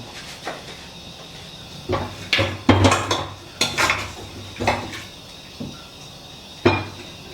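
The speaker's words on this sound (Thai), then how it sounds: "นี่นะครับเดี๋ยวเราตัดใส่จานให้ดูนะครับผม" Lemongrass and black pepper pork being cut and set onto a plate, with sharp knife-on-plate clinks and clatters in irregular bursts, close and fairly loud, with no talking.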